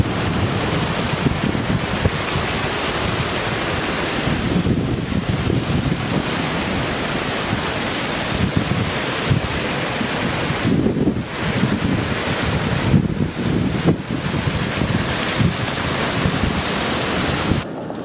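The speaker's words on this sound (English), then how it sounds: "Very impressive it is too, with all these water features all over the place." Water features splashing across the forecourt at Sheffield Station, a loud continuous rushing wash of falling water with breezy wind rumble, unbroken throughout.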